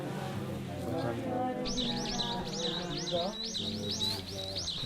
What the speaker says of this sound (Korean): 새들의 소리를 들으면서